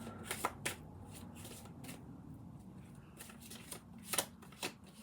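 A deck of Path of Light Oracle cards is shuffled by hand, giving soft riffling swishes and a few sharper card snaps at a quiet, close level, with no voices.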